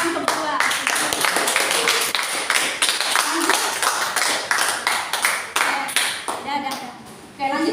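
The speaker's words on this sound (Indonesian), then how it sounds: "beri tepuk tangan kedua" Students in a classroom clap for a group that has just finished presenting, a lively rhythmic stream of sharp handclaps close by, mixed with chatter and voices throughout.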